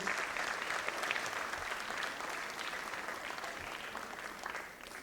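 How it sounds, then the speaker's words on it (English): A school gathering applauds the ladies of a trust board on the dais, a broad sustained clapping from many hands, fairly faint and distant, slowly tapering off. "A very big round of applause for all the ladies of the Trust Board"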